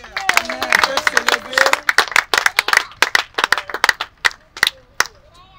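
A wedding congregation in a church claps to acclaim the Lord, dense rhythmic hand clapping mixed with cheering voices and a few shouts, thinning into scattered claps toward the end.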